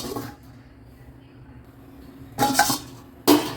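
A metal lid set onto a cooking pot of buttermilk curry (mor kulambu), two short clattering clinks near the end after a quiet stretch, with faint kitchen background.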